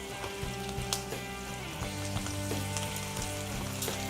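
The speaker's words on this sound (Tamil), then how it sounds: "இதையும் நம்ம லைட்டாக சேர்த்து வதக்கிடலாம்" Dried red chillies, nine spicy ones and seven Kashmiri, sautéing lightly in sesame oil for garlic chutney, with a soft crackling sizzle and faint tapping under a steady background hum.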